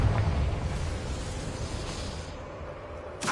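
A Confringo fire spell bursts in Hogwarts Legacy, a fiery explosion with a strong low boom at the start that trails off into a hissing, crackling rumble, then a sharp burst near the end.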